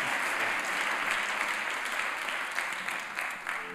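Sustained applause from a crowd at the Carles Rahola local communication awards ceremony, dense steady clapping throughout with no pauses.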